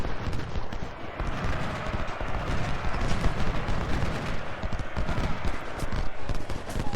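Musket volleys crackle in the Ultimate General: Civil War video game as Confederate cavalry attacks at the First Battle of Winchester, dense overlapping shots popping irregularly throughout, with no talking.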